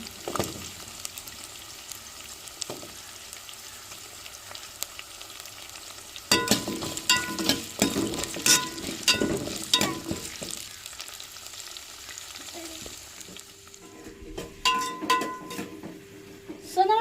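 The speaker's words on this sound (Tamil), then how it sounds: "வெங்காயம் வெள்ளைப்பூடு பச்சை மிளகாய் வதங்கிருச்சு" Onions, garlic and green chillies fry in a pan with a steady sizzle, broken by bursts of louder stirring and scraping in the middle and near the end.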